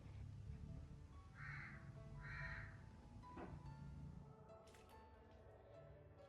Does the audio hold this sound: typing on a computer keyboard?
no